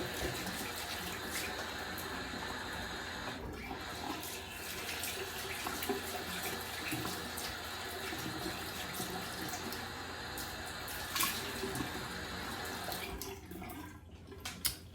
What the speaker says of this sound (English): Let me rinse the face off here.